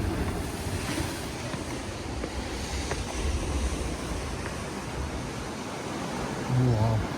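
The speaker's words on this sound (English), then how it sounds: "Wow, look at the waves." Waves surge and wash along the rocky Madeira coastline, a steady broadband roar with wind buffeting the microphone throughout and a brief louder gust near the end.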